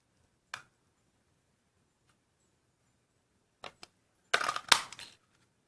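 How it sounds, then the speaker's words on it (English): A 1 1/4 inch circle punch cuts through card stock in short, sharp clicks and snaps, one isolated click early and then a tight cluster of punch clunks near the end, close and fairly quiet with silence between. "I'm going to bring in the 1 1/4 inch punch, circle punch, and just punch that out."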